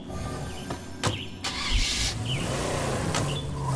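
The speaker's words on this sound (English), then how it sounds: "Let's take this car back out." Car engine cranking and catching in the State of Decay 2 video game, with door clunks and a low idle settling in after the start, loud and close.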